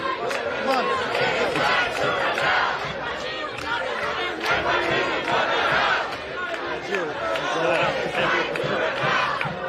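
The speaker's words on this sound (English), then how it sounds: "The crowd is chanting, "It is right to rebel, NYPD, go to hell."" A large protest crowd in a New York City street chants loudly at an NYPD police line, many voices shouting rhythmically in unison amid dense background chatter.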